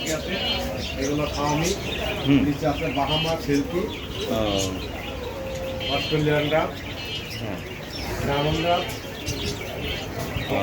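A dense chorus of quail chirping and trilling at close range at a bird sale, calls overlapping continuously with no pause.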